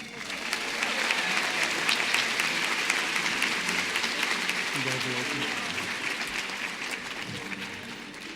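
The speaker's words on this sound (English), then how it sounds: "Another round of applause for them, please." A crowd at a school district back-to-school event applauds a group of 25-year employees: sustained, full clapping that swells and then slowly tapers, with some murmuring voices beneath it.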